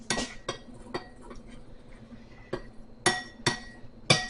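Baking soda and cornstarch get stirred together in a bowl for homemade dry shampoo, heard as a series of close, sharp clinks and scrapes of a utensil against the dish, irregularly spaced with quiet gaps between.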